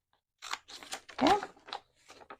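Scissors snip through a strip of paper being cut for envelope pockets, a few crisp close cuts in quick succession with one louder crunching snip in the middle.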